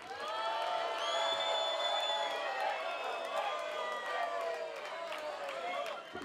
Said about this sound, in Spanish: A ver ese forte abucheo.